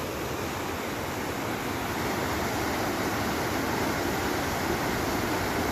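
Steady, close rushing of a flowing river outdoors in Wyoming, a dense continuous broadband wash with no breaks and no voices.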